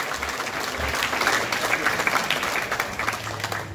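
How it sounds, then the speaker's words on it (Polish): Audience applause at an awards gala, a sustained burst of clapping from a crowd filling the whole moment. "Wielkie brawa, Pan Prezes Sławomir Szpółka."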